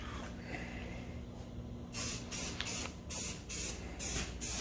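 A spray gun hisses in repeated short bursts as flat black coating goes onto a C10 truck, the rhythmic sprays starting midway after a quieter background hum.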